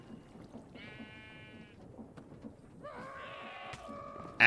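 A goat in the Minecraft modpack StoneBlock 4 gives two bleats, one short and one longer and wavering, over quiet game background, ending with a sharp loud hit at the close.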